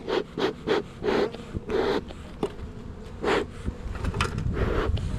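Honey bees buzzing around an opened hive in early spring, a close, intermittent droning that swells in short bursts as insects pass near, with faint background rustle between.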